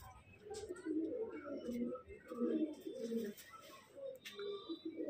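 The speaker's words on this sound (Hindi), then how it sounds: "तो देख लो ये सभी कबूतर हैं" A flock of pigeons coos steadily, soft overlapping low throaty calls heard close up, with faint chirps and a few brief clicks mixed in.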